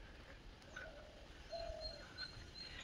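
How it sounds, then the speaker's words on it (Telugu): Faint bird calls, including cooing and short chirps, sound from the trees of a park in Chittoor against a quiet outdoor background. "ఏమేమో పక్షులు సౌండ్ వస్తూ ఉన్నాయి."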